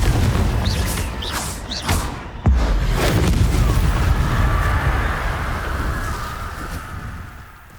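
A Confringo fire-blast spell explodes in the Hogwarts Legacy video game, a single sharp booming impact near the middle with a rumbling tail, set amid busy combat ambience and whooshing effects.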